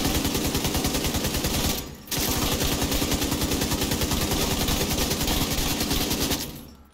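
Light machine gun firing continuously on a shooting range in The Division 2, a loud sustained stream of rapid shots broken by one brief pause, then stopping at the end.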